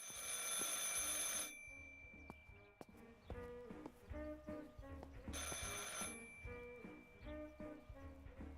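An old-fashioned telephone bell rings in two loud bursts of rapid metallic trilling inside a house in Martha is Dead, separated by a few seconds of quieter ticking and soft tonal knocks.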